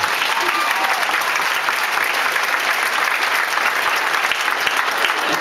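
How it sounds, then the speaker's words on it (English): A graduation audience claps in steady, dense applause that fills a large hall, continuous and even throughout with no voices rising above it. "Please clap for Mr. Carissus."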